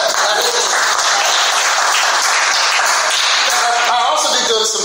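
A crowd at a graduation ceremony in Atlanta applauds loudly and densely. The sustained, close clapping is mixed with cheering voices.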